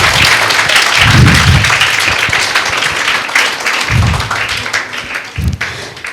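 Loud applause from a school gathering welcoming Ramadan while a guest is garlanded, a continuous wash of clapping punctuated by a few heavy thumps near the microphone.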